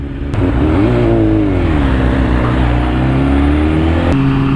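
A 2025 BMW S1000RR motorcycle still on break-in miles revs loudly and up close, the engine pitch climbing and falling, with sharp clicks near the start and end.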